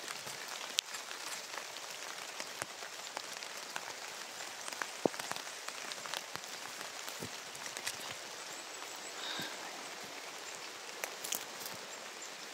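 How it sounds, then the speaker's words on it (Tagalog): Heavy rain pours down steadily, a dense hiss of drops drumming on surfaces, with occasional sharper splashes and no voices. "Lakas ng ulan guys."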